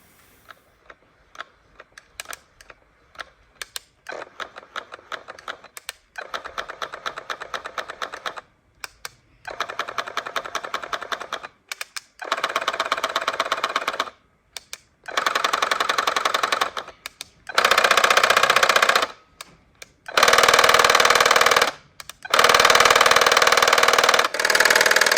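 Clawlab H1 tufting gun running in repeated bursts, a fast rattling mechanical chatter that starts slow and quiet then grows louder and higher-pitched with each pass, separated by short pauses.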